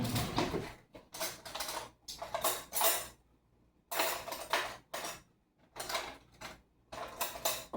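A butter knife cuts through a vegan lentil loaf on a plate, with repeated short scraping and clinking bursts against the dish separated by quiet pauses, close and fairly soft.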